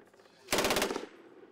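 Weapon firing during a military exercise, a single short burst of about eight rapid automatic shots, loud and close, with a brief echo fading after.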